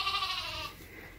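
A sheep on a farm gives a single short, quavering bleat, fairly faint, fading out after under a second with quiet background afterward.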